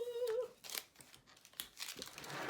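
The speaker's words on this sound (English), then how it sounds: "I'm going to carefully take the tape off" Masking tape peeled slowly off watercolor paper, a close series of short tearing and crinkling rips with brief pauses between pulls, quiet and without talk.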